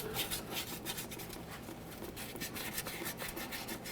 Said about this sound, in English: We'll use some fine sandpaper for this.